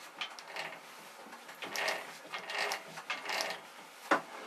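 Gearbox of a Muravey cargo scooter being shifted into forward gear, giving a run of close mechanical clicks, ratcheting and gear-meshing rattles in short bursts, ending with a sharp louder clack.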